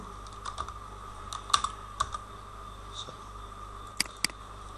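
Short bursts of clicks from a computer keyboard as a word is typed into a spreadsheet cell, a few sparse keystrokes close by in a quiet room.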